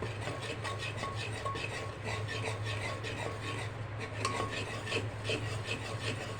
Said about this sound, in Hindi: तो तब तक भूनना है जब इस बेसन की झाग हट जाएगी।